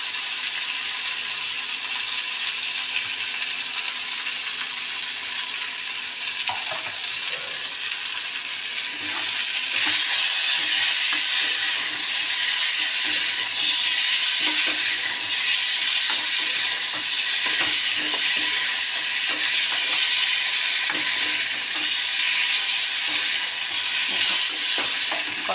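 Taro root and fish fry and get stirred in a pan for a village-style curry, a steady hissing sizzle broken by soft scraping stirs, the sizzle swelling louder midway.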